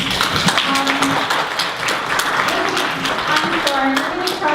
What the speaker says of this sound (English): Since Carrie got her applause